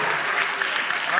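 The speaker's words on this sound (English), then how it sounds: "let's clap it up" Audience applause at a community election forum, a steady wash of many hands clapping at moderate volume for about a second with no break.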